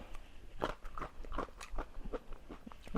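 Crunchy salad with mango and avocado being chewed up close, a rapid series of crisp bites and crunches in an irregular rhythm, quiet and without talk.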